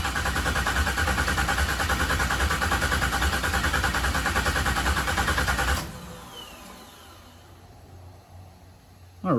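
Engine of a 1951 Hudson with an LS swap cranking and running loud and close, a steady rhythmic churn that cuts off abruptly, leaving a quiet background before a sudden noise at the very end.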